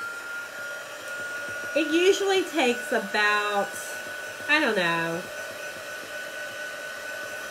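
A small handheld dryer blows steadily to dry chalk paste, a constant whooshing hum running under a person talking through the whole stretch.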